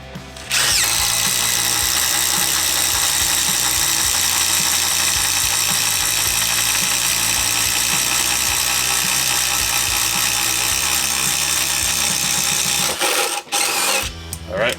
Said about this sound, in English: now on to the 7/8 inch Daredevil bit from Bosch